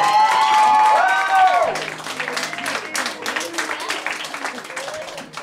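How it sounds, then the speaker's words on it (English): Concert audience applauding and cheering, with a loud burst of clapping and whoops that thins into scattered claps and crowd murmur. "big round of applause. Let's hear it."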